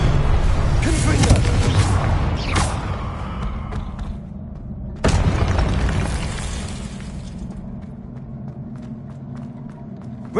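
A blasting-spell explosion from the Hogwarts Legacy video game bursts loudly over dense game audio and combat effects, with a second sharp blast midway that fades into a rumbling tail.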